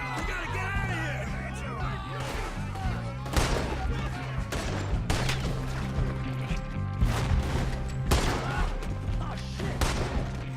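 Gunfire cracks repeatedly through a shootout in the video game Red Dead Redemption 2, sharp shots and bursts over a steady background score, with characters shouting amid the fighting.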